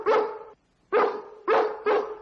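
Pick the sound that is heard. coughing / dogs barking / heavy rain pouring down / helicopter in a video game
dogs barking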